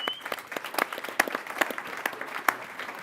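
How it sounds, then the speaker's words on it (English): Scattered, modest applause from a small audience at a live financial-services podcast recording, individual claps distinctly audible in an uneven, fairly quiet patter. "Give yourselves a round of applause."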